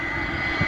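Boeing 747 Dreamlifter, a modified cargo jumbo, taking off from Paine Field into a stiff wind: a steady, loud jet engine roar that holds without break and swells slightly at the end.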